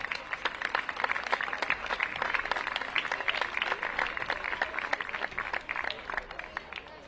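An audience applauds a seventh-placed team at a women's football tournament prize-giving, with steady, fairly distant clapping running throughout.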